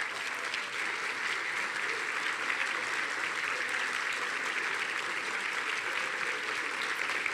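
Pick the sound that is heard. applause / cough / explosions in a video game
applause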